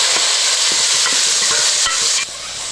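Onion, green chili and tomato sizzle loudly in a pan while being stirred, a dense close frying crackle with scraping stirs throughout.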